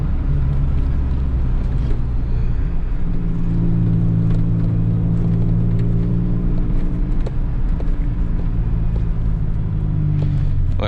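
A 1997 Toyota Tacoma with the 5VZ-FE V6 and a 5-speed manual drives along, its engine droning steadily from inside the cab with low rumbling tones that rise and fall gently as the revs change.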